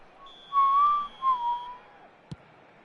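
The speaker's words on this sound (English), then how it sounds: "And the whistle's gone, presumably for offside." A referee's whistle in a football video game, blown for offside: one long shrill blast followed by two shorter wavering ones, then a brief dull thud, with no voices.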